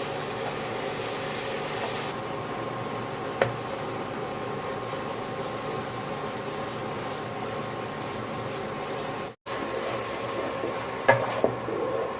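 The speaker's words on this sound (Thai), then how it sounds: "ผัดกะทิไป รวนกะทิไปพักหนึ่งนะครับ" Coconut milk stir-frying in a pan for a pork panang curry, a steady close sizzle with faint scraping stirs and occasional light clicks of the utensil.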